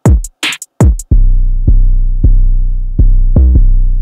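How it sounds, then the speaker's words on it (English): Sparse drums from a trap beat: a few crisp, bright hits open the pattern, then deep, booming bass kicks land at a slow, uneven pace, each ringing out long and heavy with no voices over them. "The drums on this one are quite simple."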